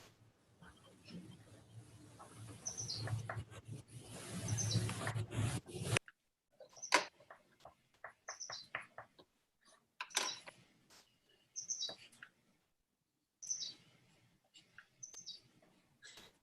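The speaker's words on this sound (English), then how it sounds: "I love that somewhere on this stream there's a bird chirping." A small bird chirps near an open window during a family drawing-game stream, short high tweets repeating in bursts, fairly faint, some under background noise and rustling.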